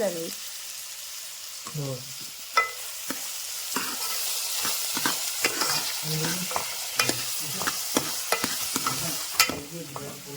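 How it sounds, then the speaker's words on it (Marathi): Chicken for a Malvani-style fried chicken is stirred in a hot pan: steady sizzling and frying under frequent scraping, clattering stirs, close up and continuous, with no talk. "आता धनवी ढवळून घेत आहे बघू शकता धनवी"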